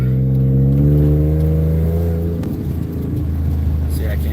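A Chevrolet Corvette C6 engine, recently fitted with new coil packs and plugs, pulls through a brief acceleration on a short stretch of road, a steady droning tone that rises then settles, loud and close throughout.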